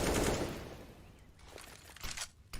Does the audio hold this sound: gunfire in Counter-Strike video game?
yes